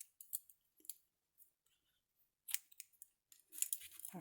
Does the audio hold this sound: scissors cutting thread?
yes